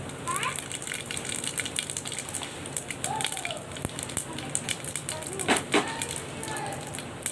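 Whole cumin seeds sizzle in hot oil for a plain pulao in a pressure cooker, a steady crackling hiss with brief louder pops, close and continuous, with faint background voices.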